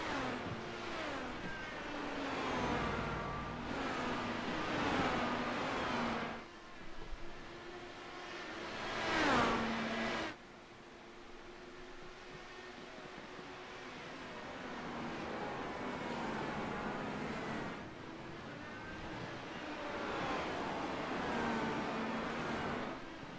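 Indy cars racing laps in a racing video game, engines whining and rising in pitch as cars pass and accelerate, a moderately quiet stretch of repeated passes with gear shifts and lulls between.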